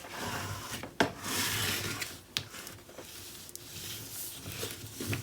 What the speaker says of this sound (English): let's burnish that